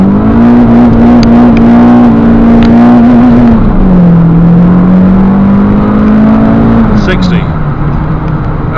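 A 2005 Renault Clio Renaultsport 182 Trophy with a 2.0-litre engine accelerates hard from a standstill toward 60 mph, heard loud from the cabin. The engine drone climbs steadily, dips at two gear changes, then climbs again, with a voice speaking over it.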